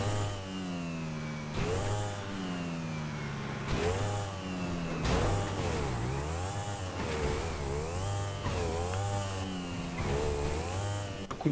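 A motorcycle engine in GTA 5 revs and shifts pitch continuously, its tone rising and falling in repeated swoops as if accelerating and easing off, loud and close with no talk over it.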